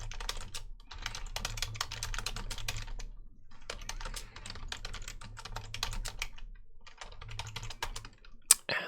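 Keyboard typing for an ASMR chat, steady bursts of rapid key clicks close up with short pauses between runs and a sharp click near the end, no voices.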